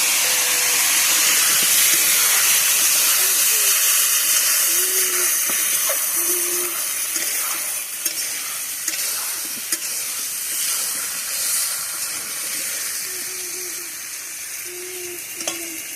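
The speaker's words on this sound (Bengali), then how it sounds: "লবণ হলুদ দিয়ে এবার ফুলকপি আর আলুগুলো ভেজে নেব।" Cauliflower florets and potato pieces fry with salt and turmeric in a pan, a steady loud sizzle and hiss with occasional soft stirring scrapes throughout, no talking.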